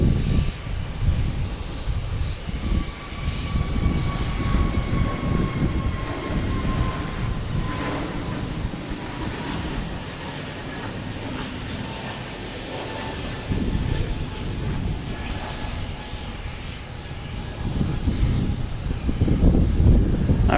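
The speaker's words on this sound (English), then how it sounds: "Get this bouncy landing before Avianca takes off." Jet airliner landing at Boston Logan Airport, a broad roar of engines and rushing air rising and falling in the distance over steady outdoor rumble, with no clear speech.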